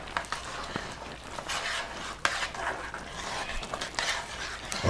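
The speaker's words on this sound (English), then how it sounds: "Let's give this a stir." A spoon stirs half and half into mascarpone mashed potatoes, giving soft, steady wet scraping and squelching with a few clinks against the pot, close and continuous.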